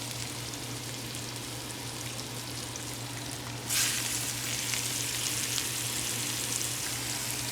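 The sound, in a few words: mushrooms sautéing in a pan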